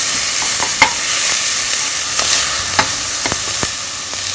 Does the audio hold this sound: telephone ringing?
no